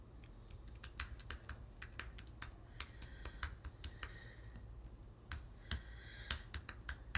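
Quick, irregular clacking of keys on a computer keyboard as an email address is typed, crisp close taps in uneven bursts over a low steady background hum, with no talking.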